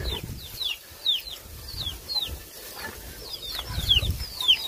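Repeated short chirps and clucks from chickens and small birds by rice fields in Xaignabouli, Laos, scattered and irregular, fairly close, with faint outdoor background and no talking.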